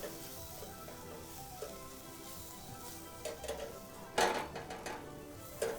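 Lentils being added to a mirepoix in a pan during a chef's cooking demonstration, giving a soft low sizzle that grows into a louder burst of frying and stirring clatter near the end, with no talk.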